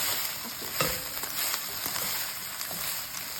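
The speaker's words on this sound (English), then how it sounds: "I'm mixing the rice" A spoon stirring rice in a hot pan, with a steady sizzle and light, irregular scraping and clicking up close, and no talking.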